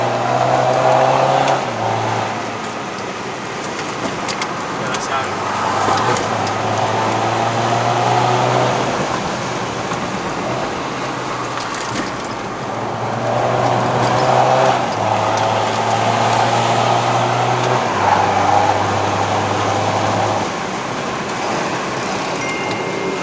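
A 2012 BMW F30 320d Sport diesel climbs a mountain road toward Genting in Malaysia. Its engine drones with exhaust note under the cabin, pitch stepping up and down through gear changes at a steady moderate volume.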